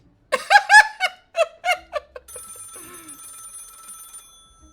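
A telephone in a video game starts ringing with a bright, electronic, steady tone that follows a burst of squeaky, babbling character vocalizations and continues alone for a couple of seconds.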